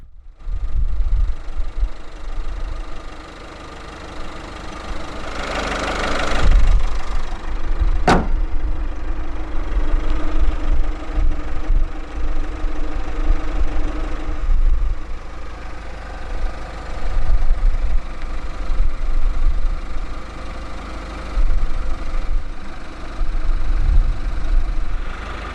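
A 2014 Citroën C4 Picasso 1.6 HDi 90 diesel idles steadily with a low, even rumble, loud and close, and a brief sharp mechanical tick cutting through partway along.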